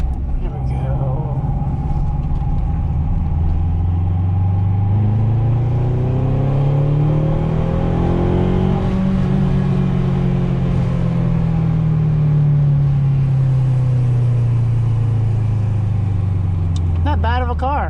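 A 1995 Acura Integra GSR engine revs hard through an acceleration pull, pitch climbing then falling back, loud and close, with a brief voice at the end.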